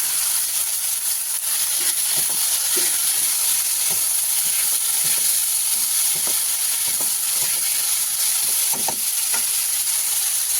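Potatoes fry in a pan with a loud, continuous sizzle and hiss, broken now and then by soft stirring knocks.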